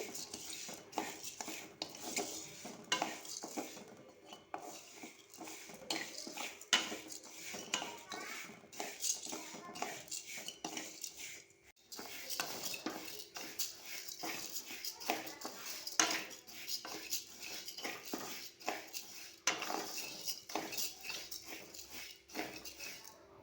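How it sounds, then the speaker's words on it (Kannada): Dosa pre-mix powder being dry-roasted in a pan, with a steady stream of scraping and clinking from a utensil against the metal, busy and continuous over the whole stretch at moderate loudness. "ಕೊನೆ ಬಾರಿಗೆ ರೋಸ್ಟ್ ಮಾಡ್ತಾ ಇದ್ದೀನಿ"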